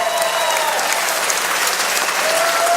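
A fight-night crowd at a USFFC mixed martial arts event applauds and cheers for both fighters after three rounds, a steady, loud wash of clapping filling the arena without a break.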